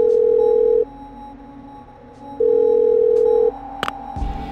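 Old telephone dial tone in the video game Parasite Eve 2, two steady electronic tone bursts about a second long separated by a pause, followed by a couple of brief clicks.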